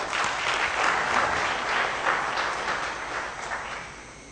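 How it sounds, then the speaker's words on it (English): An audience at a developer conference talk claps together in a busy burst of applause that swells early and then slowly thins and fades. "Round of applause, please"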